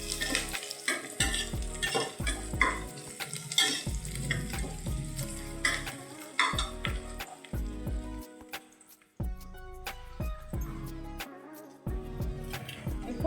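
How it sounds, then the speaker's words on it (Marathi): Onion frying in a pan for wajri curry, a steady sizzle with stirring clatter throughout, partly under background music. "कांदा गुलाबी रंग होईपर्यंत भाजायचा"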